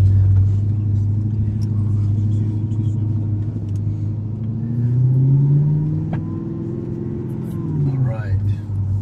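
Audi R8 engine revving and rumbling loudly from inside the car as it drives, pitch rising and falling through gear changes, with occasional talk over it.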